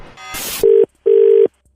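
Two loud, clean electronic ring tones on a phone line during a prank call, each burst under half a second with a short gap between, following a brief noisy click and hum.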